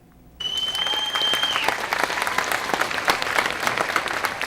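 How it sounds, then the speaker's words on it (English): A crowd at a 4-H Expo bursts into sustained applause that starts suddenly and keeps a dense, steady clatter of clapping. "The crowd applauds as 4-H clubs from nearby towns enter the corral one by one."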